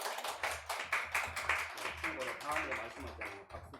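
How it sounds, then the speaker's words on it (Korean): A church congregation claps in welcome during a Sunday worship service, a fairly quiet, rhythmic patter of hands in short bursts, with some speech mixed in. "우리 박수로 환영해 주시면 좋겠습니다."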